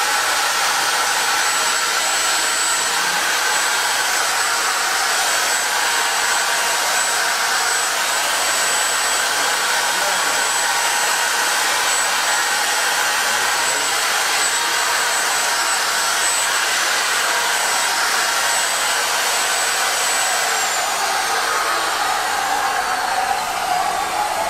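A wood router's motor spins up and runs continuously with a loud, steady high-pitched whine and airy rush that holds for over twenty seconds before pitching slightly down near the end.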